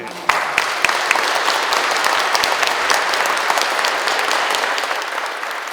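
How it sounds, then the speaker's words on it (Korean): An audience at a Lenten lecture applauds to welcome a Benedictine priest lecturer, steady dense clapping filling the hall, close and loud throughout with no talk over it. "오늘 강의를 해주실 허성준 신부님을 큰 박수로 맞이해 주시기 바랍니다."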